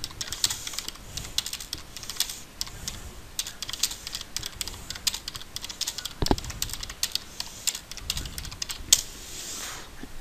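Rapid typing on a computer keyboard, with irregular bursts of close, crisp key clicks and brief pauses between, with no talking over it.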